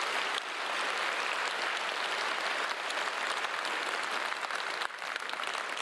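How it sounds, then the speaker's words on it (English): Crowd applause for the team FC No Hope at a game design livestream event, a dense sustained wash of clapping that holds steady and loud throughout with a brief dip near the end. "Can I get a big round of applause for FC No Hope?"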